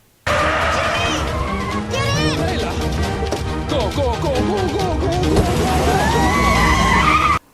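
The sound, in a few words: car chase scene in a movie, tires skidding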